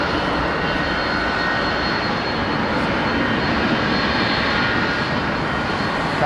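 A jet airliner departing London Heathrow gives off a steady, broad roar of engine noise, a continuous wash of sound held at moderate distance throughout, with no talk.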